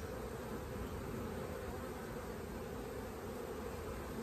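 Honeybees in an open ten-frame hive give off a dense, continuous buzzing drone that stays steady and close throughout, with no talking over it.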